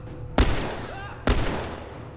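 In The Last of Us, two loud, close gunshots ring out almost a second apart, each a sharp crack followed by a short decaying echo, with game ambience beneath.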